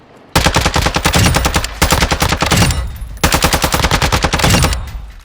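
ISO Hemlock rifle firing in Warzone 2.0 Resurgence on Ashika Island, three loud, close rapid bursts of evenly spaced shots separated by short pauses.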